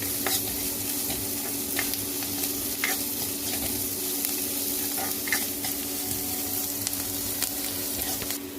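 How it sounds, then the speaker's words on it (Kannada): Garlic, onion, curry leaves and dry chillies fry for a village-style Karnataka palya tempering, a continuous close sizzle with repeated scraping stirs of a spoon in the pan, no voices. "ಬೆಳ್ಳುಳ್ಳಿ, ಈರುಳ್ಳಿ, ಕರಿಬೇವಿನ ಸೊಪ್ಪು ಮತ್ತು ಒಣಮೆಣಸಿನ್ಕಾಯಿ ಇಷ್ಟನ್ನು ಚೆನ್ನಾಗಿ ಫ್ರೈ ಮಾಡ್ಕೋಬೇಕು"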